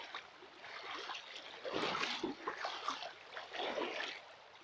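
A fast-flowing stream in the woods rushes and splashes in a faint, uneven wash, with surges of bubbling water rising and falling throughout.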